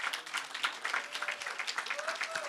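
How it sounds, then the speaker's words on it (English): Scattered clapping from an audience honoring retiring faculty at a university lecture event, a few seconds of sparse, fairly quiet hand claps with voices murmuring underneath. "May we have a round of applause for them"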